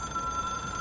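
A telephone rings in the video game Control, a steady electronic bell tone held through the short moment, clear and alone with no talk.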